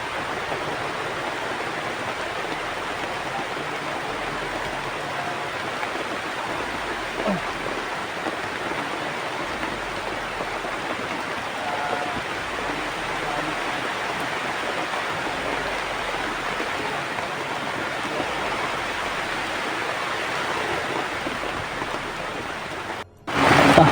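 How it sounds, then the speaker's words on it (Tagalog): Heavy rain pours down steadily and loudly throughout, a dense continuous roar with no talking, ending in a brief dropout and a rustle. "Maulan talaga, oh."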